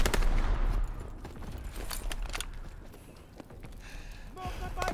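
Flak guns blasting in a Call of Duty battle, a dense, continuous barrage of heavy bursts booming loud and close throughout, with layered rapid gunfire and no talk.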